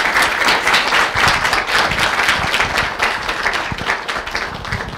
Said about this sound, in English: If we could just get another round of applause for the ambassador